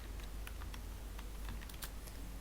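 Keys clatter on a computer keyboard as a command is typed into AutoCAD, a quick irregular run of sharp, close clicks with brief pauses between them, heard on their own with no one speaking.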